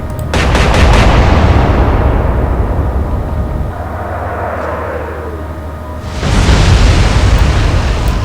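Naval gun salvos in the Atlantic Fleet video game: a loud, booming blast that rumbles and fades, then a second heavy roar of gunfire near the end.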